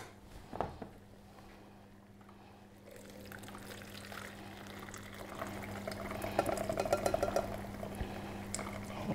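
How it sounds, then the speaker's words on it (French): Chicken broth poured through a fine chinois strainer in a kitchen gives a continuous watery splashing and trickling that swells louder and busier in the second half, with no talking. "on va passer le bouillon"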